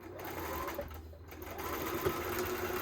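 A sewing machine stitches a Jacob's Ladder quilt block with a steady, close mechanical whir that runs unbroken for the whole stretch, with no talking.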